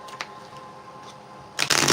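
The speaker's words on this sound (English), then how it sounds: "Let's shuffle these a little bit more." A new, stiff deck of cards being shuffled by hand, with a few soft riffles and taps, then a loud, rapid burst of cards riffling together at the end, close and with no talk.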